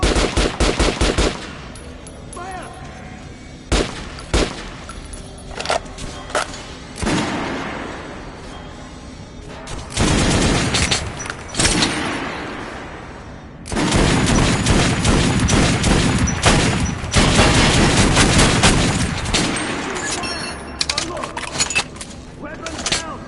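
Automatic gunfire at a shooting range in the video game Metro Redux, with loud sustained bursts and rapid volleys separated by short pauses, close and dense throughout, with a voice speaking at points.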